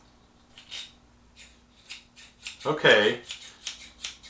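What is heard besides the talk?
scissors opened and closed after sharpening with Swifty Sharp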